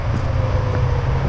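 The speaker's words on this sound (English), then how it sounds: "it is getting a little bit noisy with the cars" Steady low road-traffic rumble from cars on Route 7 near a hiking trail, a continuous close wash of tyre and engine noise with no distinct pass-bys and no talk.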